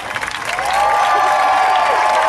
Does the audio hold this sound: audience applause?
yes